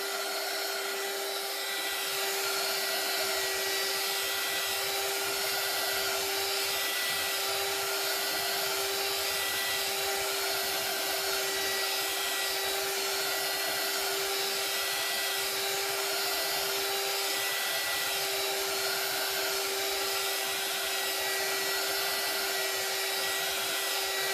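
A steady, loud stream of blown air, likely from an air tool, plays over alcohol ink on a painting surface, a continuous broadband hiss with a constant tone that runs unbroken from start to finish with no voices.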